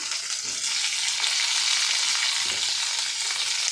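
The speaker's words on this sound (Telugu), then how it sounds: "ఉల్లిపాయ వేస్తున్నాం." Chopped onion frying in hot oil, giving a loud, dense, continuous sizzle close up with faint stirring underneath.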